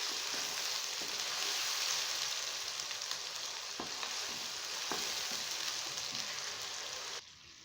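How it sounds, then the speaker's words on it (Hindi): Onion paste frying in a pan over medium heat, a dense steady sizzle and crackle throughout with a few faint stirring taps, cutting off sharply just before the end. "प्याज का पेस्ट डाल के अच्छे से इसकी भुनाई करेंगे कि इसका कच्चापन खत्म हो जाए।"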